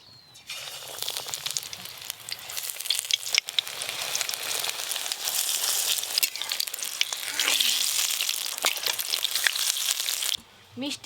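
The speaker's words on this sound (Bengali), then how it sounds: "বেসন দিয়ে যে গোটা গোটা ফুল এরকম ডুবিয়ে বেশ ভাজা করলে খেতে ভালো লাগে" Whole pumpkin flowers dipped in gram flour batter fry in hot oil with a loud, dense sizzle and crackle that swells mid-way and stops briefly near the end.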